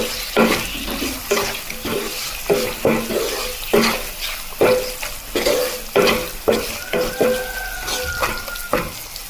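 A utensil stirs chili powder and salt into a traditional Kerala lemon pickle in a pan on the stove, with rhythmic scraping strokes over a soft sizzle.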